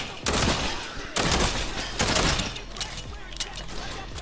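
Pistol shots in the video game Fortnite ring out in three or four loud, evenly spaced bursts, each with a short decaying tail, while fainter clicks and game sounds fill the gaps.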